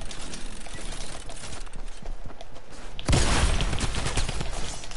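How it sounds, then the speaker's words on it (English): Gunfire in an online shooter game, steady rapid shots that burst into a louder, denser volley partway through, heard close and without voices. "They're shooting at me."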